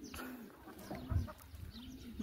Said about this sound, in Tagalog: Ayan, mga native chicken nila oh.